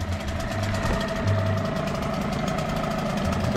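A HANGKAI 6 HP outboard motor idles steadily, a low, even mechanical rumble with a faint knocking rhythm, close by and uninterrupted.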